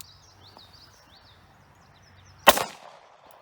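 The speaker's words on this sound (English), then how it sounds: "Now we're gonna be rocking 9x19 millimeter, 124 grain full metal jacket out of the Beretta M92 FS" A single sharp 9x19mm full metal jacket pistol shot from a Beretta M92 FS, fired outdoors at a French F2 Spectra helmet, loud and sudden after quiet with birds calling in the background.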